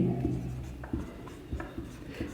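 Chalk or marker writing on a classroom board, a run of short scratchy strokes and taps at an uneven pace, close and clear with no voices.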